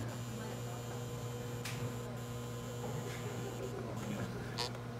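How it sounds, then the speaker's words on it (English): Dental lab vibrator hums steadily beneath a dry dental stone mix, a constant low electric buzz with faint scraping clicks on top. "see how I'm just letting the vibrator do the work?"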